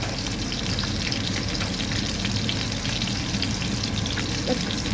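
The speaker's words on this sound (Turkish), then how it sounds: "etimiz pişiyor. Çevire çevire pişiyoruz." Hamburger meat patties fry in a pan with a dense, steady sizzle and crackle, close up and continuous, no voices over it.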